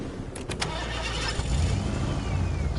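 A vehicle in Fortnite starts up with a short rough crank, then settles into a steady, loud engine rumble that runs continuously for the rest of the moment, with no talking.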